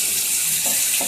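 Chana dal balls frying and sizzling as they cook in kara kuzhambu, a steady close crackle with brief bubbling, no talking.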